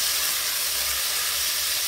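Frozen Sainsbury's mince browning in a pan on high heat makes a loud, steady hiss of sizzling, close and unbroken throughout.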